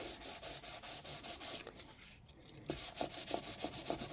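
Two-tone cardstock being sanded by hand with quick repeated rubbing strokes, loud and close, pausing briefly midway before the steady scraping rhythm resumes.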